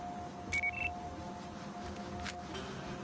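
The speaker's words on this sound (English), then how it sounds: "That alarm will call more of them in unless you disable it." Faint, repeating electronic alarm beeps in the video game Battlefield Hardline, over a steady low hum, with a couple of brief higher chirps.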